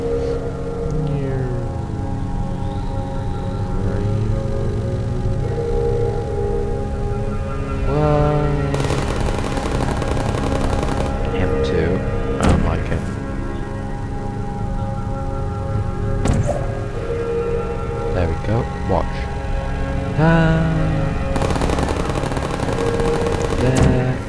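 Portal sentry turrets in the video game fire rapid, clattering bursts of gunfire in several separate volleys over a steady musical drone, loud and close throughout.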